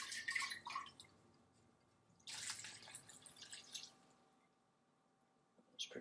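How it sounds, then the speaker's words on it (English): Water is poured into a blender over sprouted sunflower seeds, quiet splashing bursts with drips and sloshing coming in two or three short uneven pours, fairly close and soft. "I'm going to go ahead and pour the water in here to get all the rest of these seeds out"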